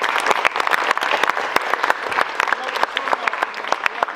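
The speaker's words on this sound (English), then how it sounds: "Clap it up" Crowd in a gym clapping steadily, a dense run of close, sharp claps filling the space without pause.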